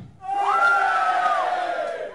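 A stand-up comedy audience cheers and whoops together after a prompt from the stage, a loud sustained crowd roar that swells quickly and holds for about two seconds before easing off.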